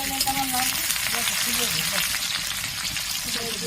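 Sliced onions fry in hot mustard oil with a steady, dense sizzle that crackles close by, while a faint voice murmurs underneath.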